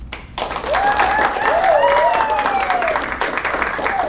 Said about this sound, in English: Will you please put your hands together for Dr.